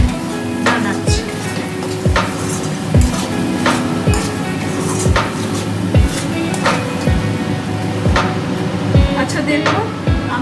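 Onion and spice masala frying in a pan for a chicken dish, a steady close sizzle broken by regular scraping and clinking strokes of a spatula against the pan about once a second.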